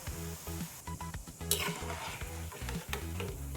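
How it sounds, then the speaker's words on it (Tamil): Ribbon pakoda fry in hot oil with a steady bubbling sizzle while a ladle stirs and clinks through the batch. Faint tonal music plays underneath. "கரண்டியை வச்சு இந்த மாதிரி கலக்கி விட்டுருவோம்"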